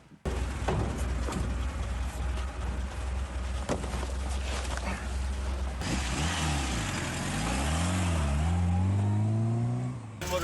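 A military buggy drives on the front line near Pokrovsk, its engine a loud, close, continuous drone that rises and falls in pitch as it revs and accelerates.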